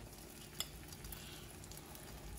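Meat sizzling in a pan for an omelette, a faint, steady frying hiss with one small clink near the start and no talking.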